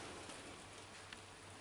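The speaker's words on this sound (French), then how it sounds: "Vous entendez cette pluie" Steady rain falling outside an apartment during a summer downpour, a soft continuous hiss of drops with no voices, quiet and even throughout.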